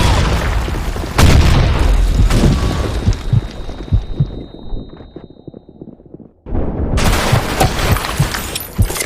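Grenade blast in a video game erupts as a loud, broad boom amid ongoing gunfire-like crackle, fading into a muffled lull before another heavy burst of noise and shots resumes, no voices audible.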